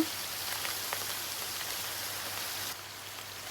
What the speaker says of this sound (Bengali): নুন হলুদ দিয়ে মেখে রাখা মাছগুলো দিয়ে দিলাম ভালো করে ভেজে নেব